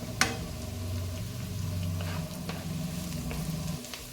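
Capsicum and mixed vegetables sizzle steadily in a hot pan for fried rice, with a continuous close frying hiss and occasional light stirring scrapes, no talk.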